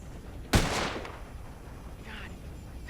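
A single loud gunshot rings out in Red Dead Redemption, a sharp close crack with a short decaying tail, followed by quiet ambience.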